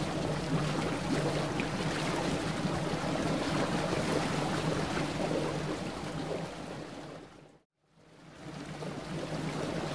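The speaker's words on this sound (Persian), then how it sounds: "نفتکش." Continuous broad rumble of wind and sea from an oil tanker at sea, with a low steady drone underneath, dropping out briefly near the end before resuming.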